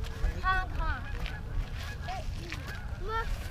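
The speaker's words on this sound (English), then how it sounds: "You hear the geese honking out there?" Geese honk outdoors, a handful of short nasal calls scattered across a few seconds, fairly distant against steady low background rumble, with no talking over them.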